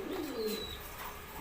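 A pigeon coos softly in a short, low burst, fairly faint against light background noise.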